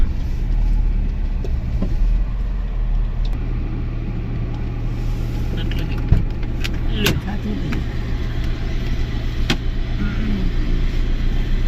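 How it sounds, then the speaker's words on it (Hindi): A car pulling in to park near home, its engine a steady low rumble with a faint mechanical whine and a brief thump partway through, loud and close, with no clear talk over it. "तो फिलहाल गाड़ी पार्क कर देते हैं यहाँ पर।"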